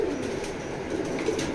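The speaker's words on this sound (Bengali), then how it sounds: "আপনাদের জন্য কিছু ফস্টারিং কবুতর নিয়ে আসলাম" Foster pigeons coo softly in a loft, low throaty murmurs repeating under a faint steady background, close by and with no talk.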